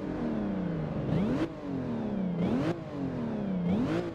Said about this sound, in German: man hört auf jeden Fall, den Kompressor, dieses Ui.